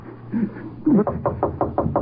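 Knocking on a door in an old-time radio drama: a brief murmur, then a series of six firm, evenly spaced knocks, close and fairly loud over a low background hum.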